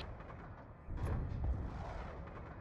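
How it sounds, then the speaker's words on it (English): A loud explosion in Call of Duty gameplay, a deep rumbling boom that swells partway through and lingers with heavy low-end roar, no voices. "that explosion was so loud"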